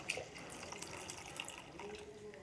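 Roasted dalia (broken wheat) being rinsed with water for a sweet porridge, a steady running and splashing wash under a tap, moderately quiet and continuous with faint drips.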